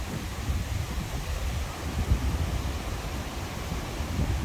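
Strong foehn storm wind on a hilltop roars continuously into the microphone as a dense, rumbling rush with surging gusts.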